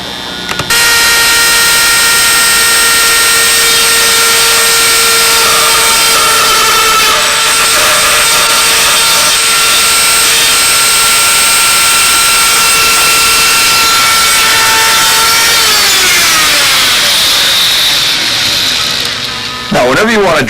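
A drill runs loud and steady for about fifteen seconds while boring holes in plywood, then its whine drops and winds down. The clip ends with a brief thump.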